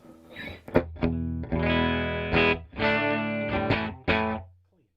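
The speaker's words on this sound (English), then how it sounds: "I'm playing through this deluxe reverb amp, which is set clean" Electric guitar chords ring out through a Fender Deluxe Reverb amplifier set to a clean tone. Several strummed phrases sustain and then stop, ending in a brief silence.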